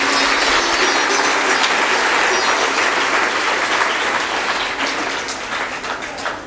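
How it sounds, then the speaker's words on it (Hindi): An audience at a spiritual discourse by Sant Shri Asang Dev Ji applauds to honour donors, with loud, dense, continuous clapping that thins slightly toward the end. "उनके लिए हम सब लोगों को ताली बजाकर उनका सम्मान करना चाहिए"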